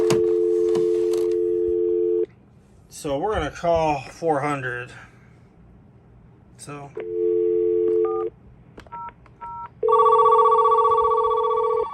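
A vintage AT&T landline telephone gives a steady dial tone, then a short burst of speech, then the tones resume. Brief keypad dialing tones follow, ending in a loud, close, repeating ring tone.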